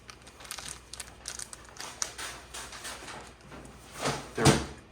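A taped package is pulled open with scattered crinkling, tearing and rustling bursts close to the mic, ending in a louder rip and thump.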